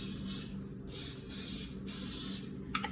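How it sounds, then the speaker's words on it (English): Butter spray hisses onto zucchini halves in several short bursts, each lasting about half a second and close to the microphone, with a faint clink at the end. "We're gonna spray them down with a little butter across the top."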